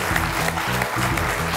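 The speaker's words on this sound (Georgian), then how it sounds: "აპლოდისმენტები." A studio audience at a Georgian television comedy game show applauds steadily as the first contestant is introduced, with continuous clapping throughout.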